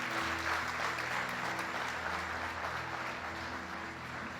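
A church congregation claps together as an offering of applause, a dense, steady wash of many hands filling the room for several seconds without pause.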